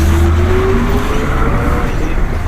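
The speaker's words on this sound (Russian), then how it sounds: "Ой, резко затормозил." A city bus in Yakutsk brakes sharply in about -40 degree winter cold. Loud, dense rumbling road noise fills the whole clip, with faint squealing tones sliding downward near the start.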